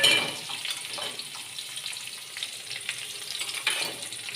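Crushed shallots, garlic and bird's eye chilies stir-fried in a pan for a spinach thoran, a continuous close sizzle broken by light stirring scrapes.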